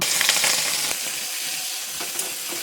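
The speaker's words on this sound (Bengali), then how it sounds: "চিংড়ি মাছগুলো ভেজে নেব" Prawns fry in hot oil, a close, continuous crackling sizzle with a few sharper pops, heard alone.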